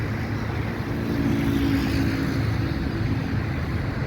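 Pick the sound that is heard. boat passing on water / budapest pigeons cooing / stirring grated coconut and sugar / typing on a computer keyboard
boat passing on water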